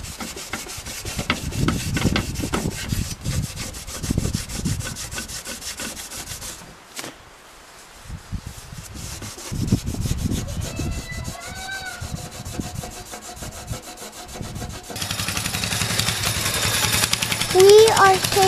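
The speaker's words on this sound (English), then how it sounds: "Now we are scratching the old gasket off so that we can put the oil pan on." Scraping an old gasket off a Land Cruiser engine to refit the oil pan: rough, rasping scrapes come in repeated bursts, close and fairly loud, with a brief pause midway and a brighter, harsher stretch near the end.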